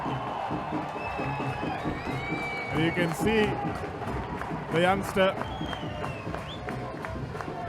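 At an under-19 water polo match between Royal College and S. Thomas' College, a poolside crowd cheers, claps and whoops in rising bursts beneath a commentator's continuous talk.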